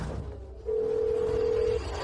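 A telephone call being placed, a single steady electronic ringback tone lasting about a second over a quiet room background.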